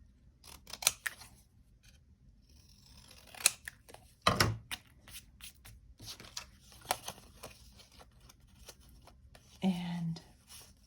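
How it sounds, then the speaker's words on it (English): Scissors trimming a paper card for a cosmic-themed card kit craft: a few crisp snips spaced apart, close and fairly quiet, with handling rustles between them and brief talk. "what I could do is trim this down a little bit carefully."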